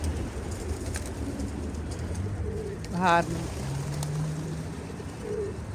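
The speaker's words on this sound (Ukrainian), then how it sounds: "Але великий великий такий птах." A large young pigeon, seen on an outdoor walk in Wrocław, gives a single brief coo. Someone speaks over a steady background rumble.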